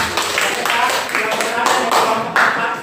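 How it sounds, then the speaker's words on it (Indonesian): A classroom group claps together at a teacher-training lesson in Indonesia, with uneven bursts of hand claps over a few seconds and voices talking through them. "tepuk tangan kelompok"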